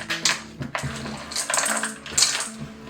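Chocolate chips clatter and tick into cookie dough in a bowl, a run of small hard clinks and rattles close by, bunched in irregular bursts.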